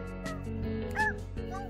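A toddler mimics a puppy barking during a diaper change at home, giving a few short yipping, whimpering cries over steady background noise.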